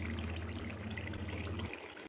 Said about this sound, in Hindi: एक कप पानी का शामिल करेंगे। इसमें गर्म पानी करेंगे।